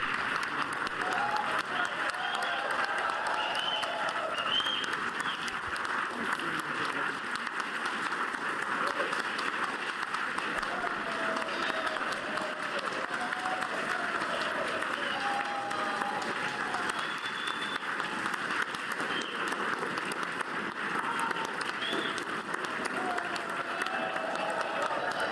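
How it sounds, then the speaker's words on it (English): A crowd in the chamber on Capitol Hill in Washington, D.C. claps at length during Donald Trump's address to a joint session of Congress. The applause is a steady roar that fills all 25 seconds, even and unbroken, with a faint murmur of voices beneath it. "Enough clapping."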